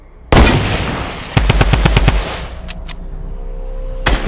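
Fortnite gunfire: a single loud shot, then a rapid burst of about half a dozen close shots, followed by a few fainter pops and one more crack near the end.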